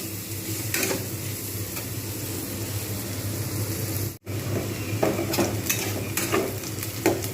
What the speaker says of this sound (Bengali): বেশ কিছুক্ষণ ধরে লাল করে এটাকে ভেজে নেব